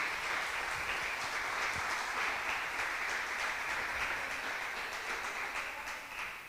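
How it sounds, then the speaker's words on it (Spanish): A church congregation claps in sustained, dense, even applause for the whole stretch, easing slightly at the end, with no talk. "¿usted quiere darle un aplauso al Señor Jesucristo?"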